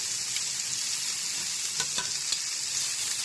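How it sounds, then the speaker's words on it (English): Vegetables sauteing in a pan over medium-low heat for a Benihana-style hot dog topping, a steady close hiss of sizzling with a few faint clicks and stirs, no talking. "We're going to let these saute on a medium-low heat for a couple minutes."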